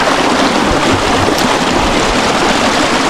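A river in the Lake District rushes steadily over stones, a dense, continuous wash of water close by with no voices.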